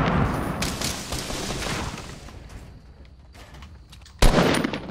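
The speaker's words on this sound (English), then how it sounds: "he's throwing nades" Grenade blasts in the Fortnite battle royale video game, a rolling run of rough bursts that fade out before one sharp, loud explosion near the end, with no voices.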